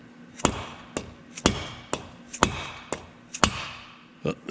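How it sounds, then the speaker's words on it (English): Six or seven sharp, heavy blows from a dead blow hammer ring out about once a second on the top end of a 1965 BSA motorcycle, each a solid clang with a short metallic decay, close up and fairly loud. "See if my dead blow will get this loose."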